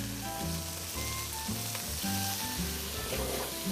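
Chicken skin frying in a dry pan with no oil, sizzling steadily and close up, with a faint rhythmic hum underneath throughout.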